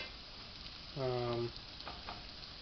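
Zucchini pieces frying in a single layer in a pan, a quiet steady sizzle with a brief tonal hum in the middle and no speech.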